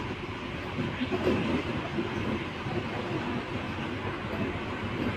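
A Chennai AC local electric train runs along the line, heard from inside as a steady low rumble with faint rhythmic wheel clatter, continuous and moderately loud with no talking.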